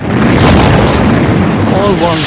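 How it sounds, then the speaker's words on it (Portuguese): Deep booming blasts of torpedoes striking ships in a wartime convoy attack, a dense continuous roar of low rumbling explosions filling the whole stretch, loud and unbroken. "Tudo que se podia ver eram clarões e sons de torpedo atingindo os navios, explosões."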